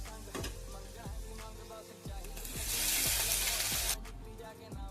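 Spring onion greens and toor dal sauté in a hot pan with a steady close sizzle, punctuated by regular knocks of a spoon stirring roughly every half second, the hiss swelling louder midway before easing back.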